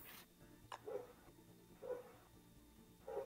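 A neighbour's chained-up dog barks outside, faint and distant, three spaced barks at roughly one-second intervals over a quiet background.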